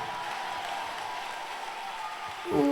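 A church congregation applauding and acclaiming the Lord, a steady wash of clapping and crowd noise that swells louder at the end, with voices mixed in.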